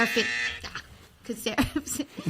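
A harsh electronic buzzer blares briefly at the start, followed by people talking over faint background noise.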